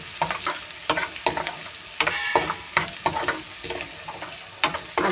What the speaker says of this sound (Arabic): قلب قلب قلب